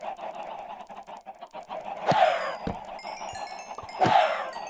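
Minecraft chickens cluck and squawk in a steady stream, with two louder flurries of calls rising above the busy background of clucking.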